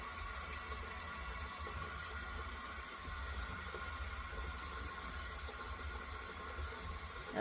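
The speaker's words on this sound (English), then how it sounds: "so I'm going to let some water out." Water runs and drains from a foot bath in a continuous, even gush, fairly faint and steady throughout with no voices.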